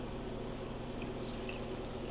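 Milk poured into a cooking pot for cheesy potatoes, a steady continuous liquid pour running close and moderately loud throughout, with no talking.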